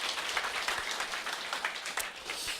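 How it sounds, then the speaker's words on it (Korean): An audience at a company presentation gives a short burst of dense, steady clapping in a hall, heard on its own and without voices. "아, 박수."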